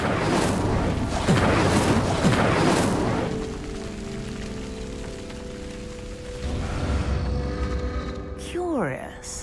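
Incendio fire spell setting a pyre alight in the video game Hogwarts Legacy: a loud, roaring whoosh of flames with rumbling booms, easing into a steadier crackling burn and ending in a rising magical swoosh.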